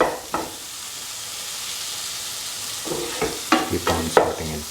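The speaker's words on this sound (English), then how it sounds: "Keep on sauteing and crushing the tomatoes." Tomatoes sautéed and crushed in a hot pan for a taro tomato stew, a steady close sizzle of frying with a few scraping stirs and soft squashing knocks toward the end.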